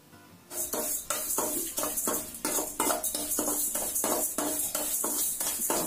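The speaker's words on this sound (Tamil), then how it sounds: "பொங்கல் செய்யறதுக்கு ஃபர்ஸ்ட் 100 கிராம் பாசிப்பருப்பை வறுத்து எடுத்துக்கலாம்" 100 grams of moong dal being dry-roasted in a pan for village-style sweet pongal, a spatula scraping and clinking against the metal in a steady rhythm of repeated strokes, close and clear.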